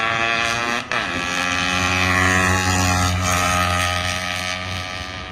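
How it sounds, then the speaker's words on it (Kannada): A fully restored motorcycle engine, ported and fitted with reed valves, runs at a steady loud idle with a rich harmonic drone and a brief dip near the one-second mark. "ಈ ಇಂಜಿನ್ ಫುಲ್ ರಿಸ್ಟೋರ್ ಆಗೈತೆ"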